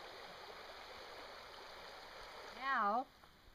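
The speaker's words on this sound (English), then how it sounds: "this is the babbling river" River babbling over rocks, a steady broadband rush of water running continuously and fairly close, with a brief voice speaking over it near the end.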